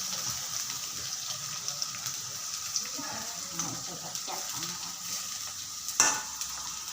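Green chilies dropped into hot oil, a soft steady sizzle with light stirring and a sharp burst of crackling near the end, a voice speaking faintly over it.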